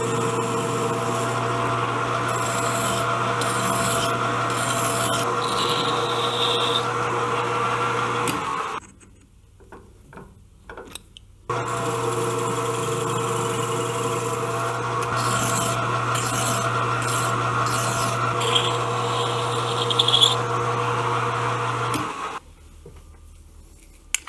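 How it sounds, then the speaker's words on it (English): Lathe running in a motorcycle shop: a steady mechanical whine and hum with cutting noise on top, stopping briefly in the middle before starting up again and then cutting off near the end. "Okay, a little bit more lathe work."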